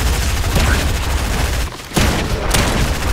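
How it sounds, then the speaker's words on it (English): Dense gunfire from the Fortnite video game, a loud continuous barrage of shots with booming hits, briefly dropping out near the middle before resuming. "Oh crap, people are shooting."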